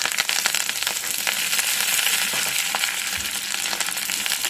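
Dried red chillies and crushed curry leaves fry in hot oil in a pan, giving a dense, crackling sizzle with scattered pops and a few stirring scrapes, close and continuous with no talking.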